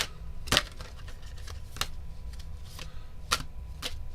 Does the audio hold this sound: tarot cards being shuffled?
yes